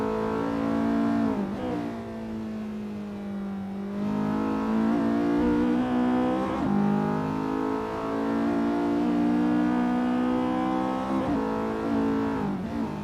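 A Honda S2000 engine in a racing video game holds a steady high rev on a time attack lap, its tone shifting with throttle and gear changes, loud and continuous with no talk.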